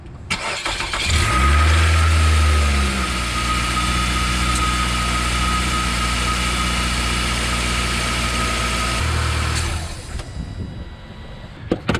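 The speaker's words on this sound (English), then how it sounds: "I'm gonna go turn the car on and we're gonna see if we have any leaks" Nissan 2.5L QR25DE four-cylinder car engine cranks and fires, settles into a steady idle for several seconds, then shuts off, recorded up close.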